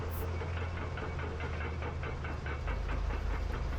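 Caterpillar D11 dozer slot dozing, its diesel engine droning heavily and continuously at a distance, with a rhythmic pulsing chug and a deeper surge toward the end.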